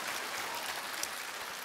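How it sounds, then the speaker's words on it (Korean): Brief, faint patter of audience clapping at a motivational sales talk, heard at low level from across a lecture hall for under two seconds. "박수를 치실 거면 좀 화끈하게."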